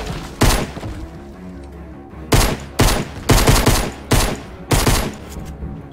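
Video-game gunfire in Fortnite: about six sharp, loud bursts of rapid shots come in uneven clusters, with short quiet gaps between them and no talking.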